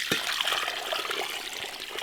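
Liquid pours into a 20-litre pot while preparing winter feed for bees, a steady close splashing trickle without pause.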